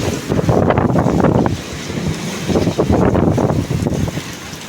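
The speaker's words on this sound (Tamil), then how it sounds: "சூறாவளி காற்று அடிக்கிறது பயமா இருக்கு" Strong gusting storm wind during a hailstorm roars and buffets the microphone in continuous loud surges, rising and falling, with a deep rumble underneath.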